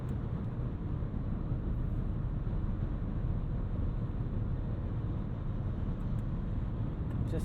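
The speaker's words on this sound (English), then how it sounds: "That exhaust is so throaty, so deep." A 605 hp 2020 Mercedes-Benz S63 AMG sedan on Pirelli Sottozero snow tires gives a steady, deep, dense engine and exhaust rumble under way, loud and continuous with constant road noise and no pauses.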